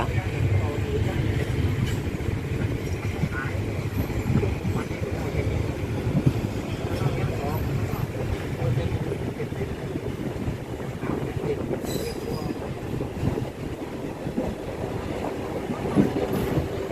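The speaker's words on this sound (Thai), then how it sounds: "ขบวนรถจะหลีกัน ปิดหน้าต่างทางขวา" Thai ordinary train no. 261 rolling along the line and passing another train, heard from inside the carriage as a continuous loud low rumble and rattle with wind noise, plus a few brief higher squeals.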